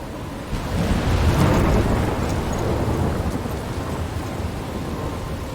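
A stormy roar from Life is Strange Remastered, with rain and wind and a low rumble swelling early and then holding as a dense, continuous wash with no voices.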